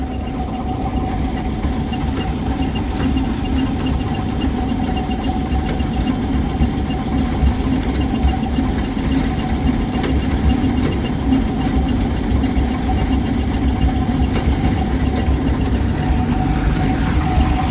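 A tractor idles beside a wet rice paddy, its engine holding a loud, steady, close rumble with a constant drone and a faint knock running unchanged from start to finish.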